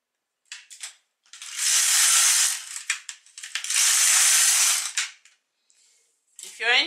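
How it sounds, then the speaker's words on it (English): A knitting machine carriage slides across the needle bed in two long, loud passes, each a rasping mechanical whirr, with small clicks and clatters between them and close by. "I know you want to see the carriage moving across the needle bed."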